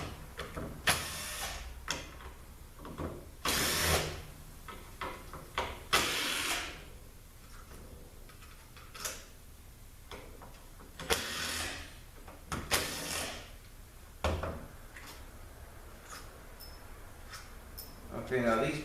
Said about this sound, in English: let's remove the bolts. There should be 6 bolts that hold this thing together